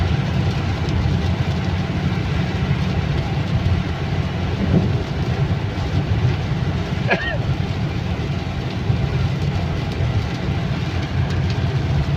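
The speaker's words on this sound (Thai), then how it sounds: "ฝนตกแล้ว" Continuous broadband hiss of rain on a car driving up a mountain road to Khao Yai, with steady road rumble and a brief sharp crack partway through.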